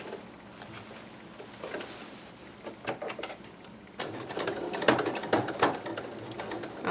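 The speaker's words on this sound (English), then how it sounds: "as you can see, the machine handles it just fine" A sewing machine stitches a dress seam and runs over boning, giving a steady mechanical whir with ticking clicks that grows louder and busier toward the end.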